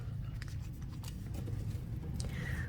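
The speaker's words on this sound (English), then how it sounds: "I'm just going to give it a nice shuffle" An oracle card deck of typical card thickness is shuffled by hand, producing soft rapid riffling and scraping clicks that stay close and quiet over a low background hum.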